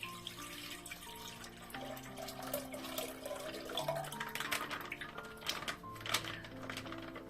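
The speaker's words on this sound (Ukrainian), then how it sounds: "виливаю його в кастрюльку" Milk from a carton poured into a saucepan in a home kitchen, a continuous gurgling, splashing liquid stream that stays steady and moderately loud with no talking.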